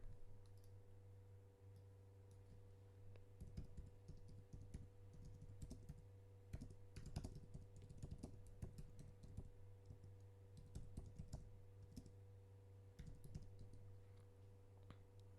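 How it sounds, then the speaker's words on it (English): Fingers type a search on a computer keyboard in quick irregular clicking runs with short pauses, close and faint over a steady electrical hum. "Just type it in here."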